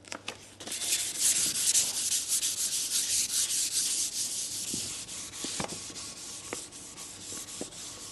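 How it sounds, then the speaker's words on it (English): Sandpaper of 800 grit rubs lightly over a guitar's finish in a soft, hissing back-and-forth scrub, close and steady, with a few small ticks and taps scattered through the strokes and no talking. "So we're just going to go over it very lightly with some 800 grit."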